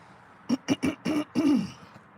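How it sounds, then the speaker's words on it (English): A person clears their throat in a quick series of five short, voiced rasping bursts, close and fairly loud, ending with a slightly longer growl. "Let me clear my throat."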